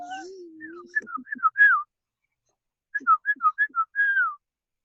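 A person whistles in imitation of a bird call, first a long wavering note and then two runs of short, chirpy whistled phrases separated by a pause, close and clear with nothing else audible.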